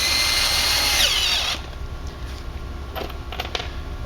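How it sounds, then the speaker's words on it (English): A power screwdriver driving screws to fasten a hardwood plank jack to the floor, a loud whirring drive that stops abruptly, followed by a few light clicks and taps nearby. "real quick like I will take the screwdriver and we'll just screw that right to the floor"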